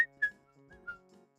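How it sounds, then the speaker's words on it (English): A person whistles a few short, bright notes in quick succession, close and fairly clear, with quiet pauses between the phrases. "Did you hear me whistle?"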